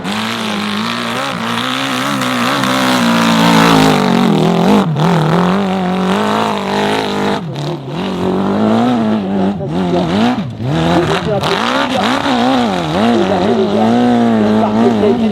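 A proto-category hill-climb race car engine revs hard and nearby. It climbs and drops in pitch through repeated gear changes and throttle lifts, loud and sustained for about fifteen seconds.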